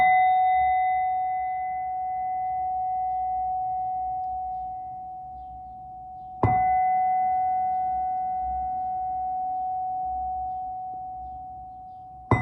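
Two struck bell tones, the first at the start and a second about halfway through, each ringing out clear and sustained with a long, slowly fading decay, alone in an otherwise quiet space.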